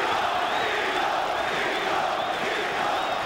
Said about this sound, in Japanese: またティトコールです